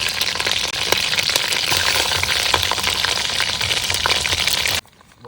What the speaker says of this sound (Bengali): আর তেজপাতা শুকনো লঙ্কাটা দিয়ে নেব তেলে চলে যাবে আদা পেস্ট লঙ্কা বাটাটা দিয়ে নেবো